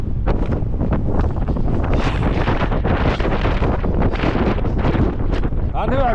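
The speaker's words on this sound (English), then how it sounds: "There's so much wind, it's hard to see." Strong wind blasts across the summit of Mt. Washington, roaring steadily and loudly into the microphone throughout, buffeting hard with no letup.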